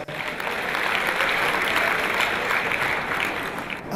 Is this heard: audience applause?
yes